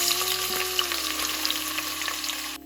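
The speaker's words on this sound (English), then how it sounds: "Next I'm going to add in the sliced onions." Sliced onions fry in hot oil with whole spices, giving a steady, close sizzle throughout with faint crackles and no voices.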